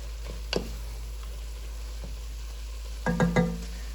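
Salt and dried mushrooms stirred in a sauté pan for shepherd's pie, a faint sizzle underneath broken by a few short scraping turns, one early and a quick cluster near the end.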